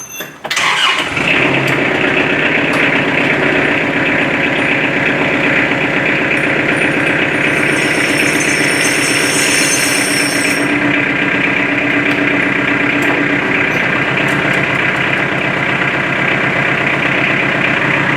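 A Kubota L4600 tractor engine starts and runs steadily as the tractor rolls ahead in Maine winter with chains being fitted, a close, loud, continuous diesel rumble with a brief higher hiss midway.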